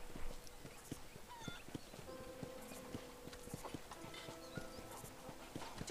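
A horse's hooves clip-clop steadily in the video game Red Dead Redemption, a close, even rhythm of hoofbeats with faint ambient game sounds behind.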